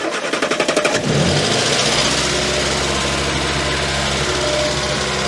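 A Morris Minor, unused for nine years, cranks in rapid pulses for about a second, then catches and settles into a steady, close, loud running idle with strong low exhaust drone.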